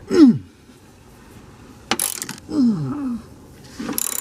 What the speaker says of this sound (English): To remove the strut bar, we have two 12mm bolts here and one over here underneath this access panel that we need to remove